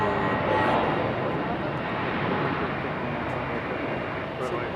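A JetBlue airliner headed for Orlando roars in a broad, steady rumble across an airport at Raleigh-Durham. The noise stays loud and even throughout.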